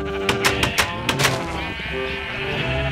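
Sheep in the video game Minecraft bleat several times in quick succession, short wavering cries near and clear, before a steady game background hum carries on alone.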